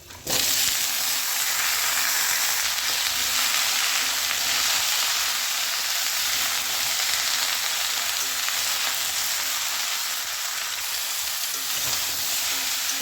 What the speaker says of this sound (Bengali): আমার সবজিটা আমি ভালো করে কষিয়ে নিয়েছি